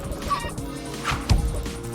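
A chicken in the video game Minecraft giving a couple of short clucking calls over a low game background, moderately loud and brief.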